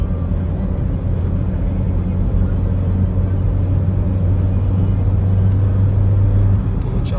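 A Volvo V50 with a 1.6 petrol engine cruising on a highway in fifth gear: a steady, loud low engine drone and road rumble inside the car, holding even for several seconds.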